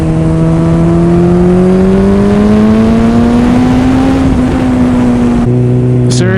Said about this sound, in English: Oh, it's such a lovely bike to ride.